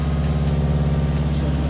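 A Subaru engine idles with a freshly installed aftermarket exhaust, giving a loud, close, steady low rumble with a slight burbling pulse and no talking over it.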